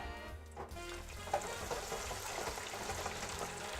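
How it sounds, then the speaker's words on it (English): A half batch of curly fries bubbles in hot oil, giving a steady, dense sizzle and crackle that holds at an even, close level throughout with no voices. "So we'll let those fry."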